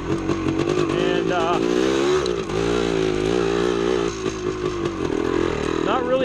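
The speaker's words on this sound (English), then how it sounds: "So keeping the pipe low, nice and quiet, cruising through the woods." A 1975 Yamaha DT250 two-stroke motorcycle cruising at low RPM through woods, its engine droning steadily and close with small throttle changes, while someone talks over it.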